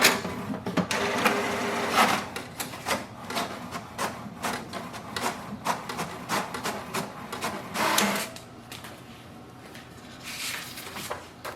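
An HP DeskJet 2952 inkjet printer prints an information page, giving off a run of rapid mechanical clicks, whirs and carriage rattles that pause briefly before starting again, fairly close and with no talking.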